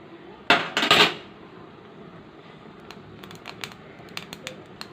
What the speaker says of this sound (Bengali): গ্যাসের ওপরে দিয়ে দিলাম মশলা করে একটু নাড়াচাড়া নাড়াচাড়া করে দিলাম